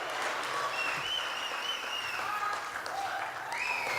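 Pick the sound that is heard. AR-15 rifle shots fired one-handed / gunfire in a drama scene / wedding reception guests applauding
wedding reception guests applauding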